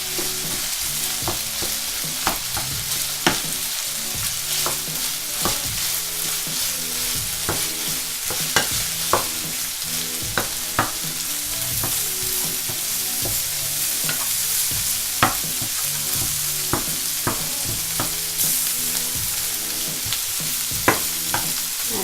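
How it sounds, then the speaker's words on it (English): Thai basil pork with green beans stirred in a frying pan, a steady sizzle broken by repeated scraping and clacking of the utensil against the pan, close and continuous without talk. "Let's just stir this a bit."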